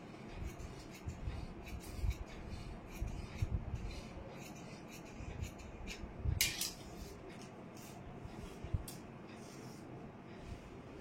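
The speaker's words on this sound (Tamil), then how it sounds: "இப்போ இது லைனிங்ல வந்து கட் பண்ணியாச்சு" Scissors snipping through satin skirt lining fabric on a table, quiet and close, with soft rubbing and rustling of the cloth and a few sharper crisp cuts at irregular intervals.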